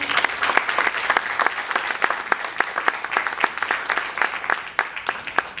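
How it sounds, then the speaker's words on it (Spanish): A seminar audience applauds loudly and continuously, many hands clapping in a dense, crackling burst that stays strong from start to finish with only faint voices mixed in. "Fuerte el aplauso."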